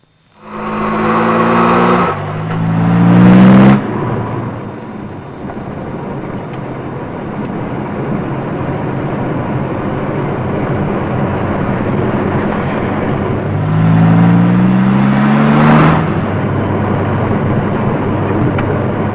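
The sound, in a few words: car driving along road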